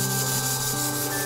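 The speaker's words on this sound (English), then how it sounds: "sanding work done to roughen the surface." Continuous close-up sanding of a lacquered wooden base, a rough rasping rub on wood with steady strokes and no talking.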